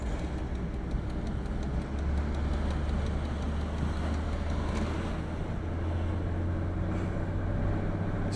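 A Mercedes W140 350SD with a six-cylinder diesel drives along, its engine a steady low hum and drone under road and cabin noise. It stays moderately quiet and continuous throughout, with no talking.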